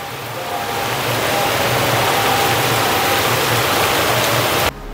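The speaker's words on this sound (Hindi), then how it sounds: "और बहुत ज़ोरों से बारिश हो रहा है।" Heavy rain pours outside at night, a loud, steady rushing wash that fills the whole clip without a break and cuts off abruptly at the very end.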